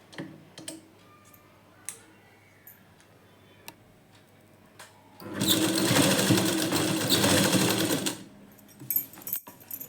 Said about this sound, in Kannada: ಇವಾಗ ಇದನ್ನು ಸ್ಟಿಚ್ ಮಾಡ್ತಾ ಇದ್ದೀನಿ.